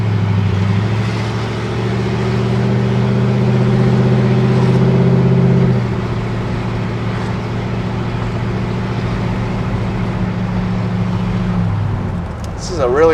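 A 1955 Ford F100 custom truck engine runs steadily while driving, a loud smooth drone that drops in pitch partway through and fades near the end.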